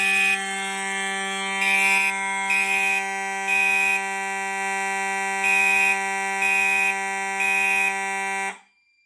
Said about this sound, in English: I do apologize that the Simplex horn strobe sounds a little bit rattly